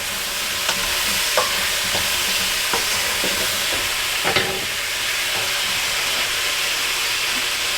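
Rabbit hash frying in a pan, a steady broad sizzle and hiss with scattered scrapes and clinks of a utensil stirring it, alone with no talk.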